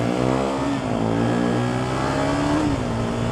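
Two KTM RC390 motorcycles rev hard together, the engines climbing in pitch, dipping at a shared gear change, then climbing again; loud and close with no one talking.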